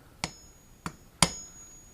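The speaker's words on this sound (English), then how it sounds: "and then hit it with a hammer" Three sharp metallic hammer blows drive a screw extractor into a broken exhaust bolt on a 1976 Honda Elsinore MR175 motorcycle, spaced unevenly, the last strike loudest, each ringing briefly in a quiet workshop.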